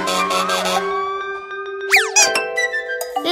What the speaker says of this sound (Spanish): ¡El camión de bomberos!